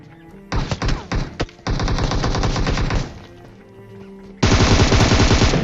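Bursts of rapid automatic gunfire from a video game, several volleys separated by brief pauses, loud and close with echoing reports.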